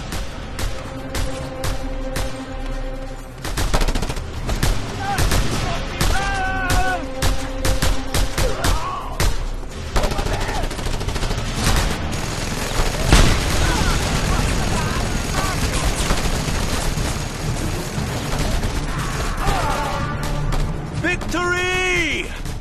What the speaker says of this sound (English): Mounted gun!